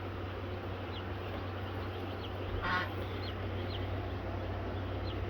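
Baby chicks peep faintly in a brooder, short high chirps scattered over a steady low hum and background noise, with one brief louder burst midway.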